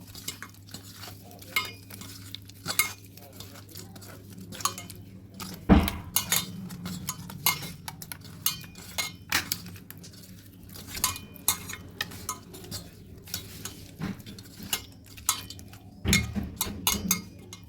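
Chunks of big katla fish being mixed with Kashmiri red chili powder and spices: a steady wet squelching of stirring throughout, with occasional sharp clinks and knocks of a utensil against the bowl, nearby and with no talk.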